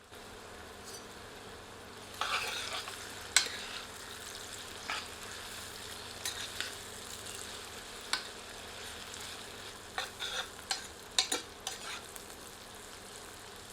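Sliced onions and whole dried red chillies fry in oil in a pan, a low steady sizzle broken by sharp scraping stir strokes and clacks of a spoon at irregular intervals, close and without talk.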